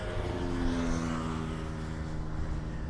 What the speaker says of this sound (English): There's a little Cessna going over the top of the Bear at